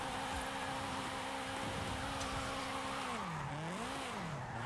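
Acura drift car in Forza Horizon 5 sliding with a steady, loud engine drone whose pitch dips and swoops as the car slides, with faint tire noise and no talking.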